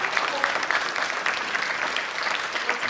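Sustained applause from a theatre audience after a stage production, many hands clapping in a dense, even patter. It is close and fairly loud throughout, with no voices.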